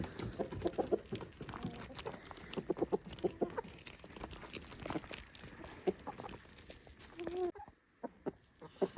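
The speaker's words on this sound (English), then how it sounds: "I have chickens that are eagerly awaiting the corn" A flock of chickens awaiting corn clucks and murmurs busily throughout, with scattered short calls and soft rustling, ending in a brief quiet moment.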